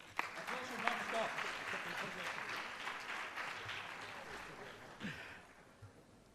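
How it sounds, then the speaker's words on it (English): Audience applause at a university research conclave award ceremony, steady dense clapping that fades toward the end with a brief renewed burst, with faint voices underneath. "Let's give you a big round of applause."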